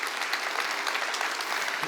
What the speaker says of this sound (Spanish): Den un aplauso fuerte a Jesús